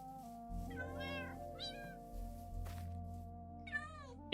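Minecraft cats give a few distinct meows, two close together early and another near the end, over quiet sustained game music, ending with a sudden loud click.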